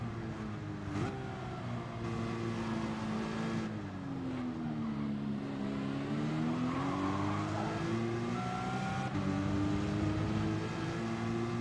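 A race car from Gran Turismo 7 laps the Montreal circuit, its engine droning steadily and rising and falling in pitch through shifts and corners, with brief tire squeal, loud and continuous with no talk.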